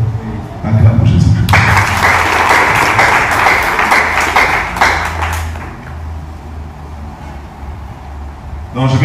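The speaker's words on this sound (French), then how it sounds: "Acclame Jésus." Congregation applauding and cheering during a French-language church service, a loud burst of clapping that swells for several seconds and then fades, with voices mixed in.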